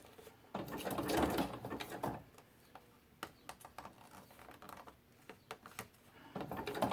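A sewing machine stitching book-page paper ruffles, running in short bursts with loud whirring stretches at the start and end and scattered ticking taps between, no voices.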